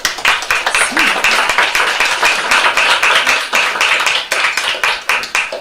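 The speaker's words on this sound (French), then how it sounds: "nous applaudissons Felicia de tout cœur" Audience at a book launch applauding the author, loud close crowd clapping with many distinct hand claps in a lively, continuous burst lasting several seconds, with no speech over it.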